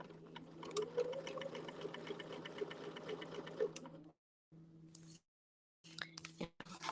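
A quilting sewing machine runs a quarter-inch zigzag stitch with a steady rapid mechanical whir and clatter for about four seconds, then stops and restarts in short bursts, close and moderately quiet.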